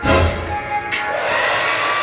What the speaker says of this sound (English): I'm about to use my blow dryer.